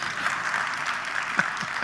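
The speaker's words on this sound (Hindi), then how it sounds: "मेरे लिए ताली बजा लो।" Audience applause at a live talk event in India, a steady wash of many hands clapping throughout at moderate level, with faint voices mixed in.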